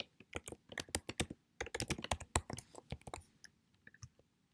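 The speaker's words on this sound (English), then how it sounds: "they type in the necessary data" Fingers type on a computer keyboard in quick, uneven bursts of sharp close clicks, pausing briefly between runs of keystrokes, with no talking over it.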